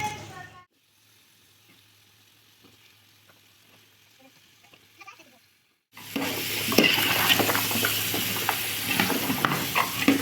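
A spoon scrapes and stirs boiled potato, cauliflower and green peas into biryani masala in a pot, soft at first and then a louder, busy sizzling and clattering mix after a pause.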